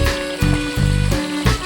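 Cold drinking water flowing and being collected at a village source: a steady close trickle and gurgle with rhythmic pulsing surges, loud and continuous throughout, no talking.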